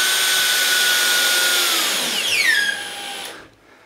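A cordless screwdriver whines close up as it drives a screw into a drywall niche in a bathroom, holding a high steady pitch before winding down and stopping.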